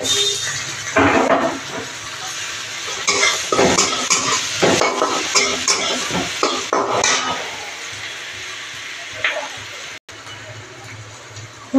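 Oil sizzles and crackles steadily as garlic fries in a pan while a spoon stirs and scrapes, with a voice talking over the cooking.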